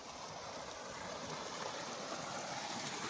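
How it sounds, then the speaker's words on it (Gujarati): Irrigation water flows through a sown wheat field on a farm, a steady, even rushing and gurgling wash that stays at the same level throughout, with no voices. "ઘઉંમાં પાણી હાલે છે કોરવાણ"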